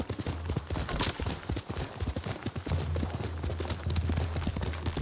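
Horse hooves pound rapidly in a galloping rhythm, close and steady, in the video game Ghost of Tsushima, with a low droning hum underneath in the second half.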